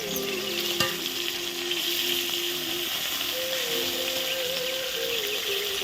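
Fish sizzle steadily in hot oil in a wok, a continuous loud frying hiss with a faint tonal whine and a brief clink near the start.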